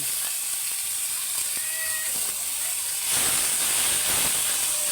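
Chopped ingredients sizzle in a hot wok, a steady broadband hiss that swells louder partway through as more food hits the oil, with faint clinks beneath and no talking.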